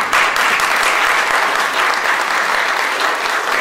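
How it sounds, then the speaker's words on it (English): Dense, steady applause from an audience at an old-fashioned hymn sing, many hands clapping close and loud for the whole stretch with no break. "Let's give them a big round of applause"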